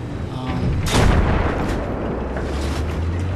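A tank cannon booms loudly in a Battlefield 3 Conquest match on Caspian Border: one heavy blast whose rumble rolls out slowly, while faint game noise and a speaking voice sit underneath.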